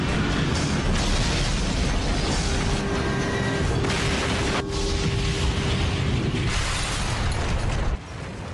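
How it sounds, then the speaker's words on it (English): Dramatized crash of American Airlines Flight 587, an airliner slamming into the ground, rendered as a sustained loud roar of rumbling impact and grinding debris with a held tone through the middle, cutting off sharply near the end. "Flight 587 slams into the ground"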